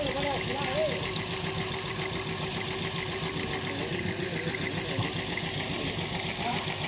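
The engine of a Hino FD truck idles steadily at moderate distance, an even mechanical chatter that continues without pause throughout.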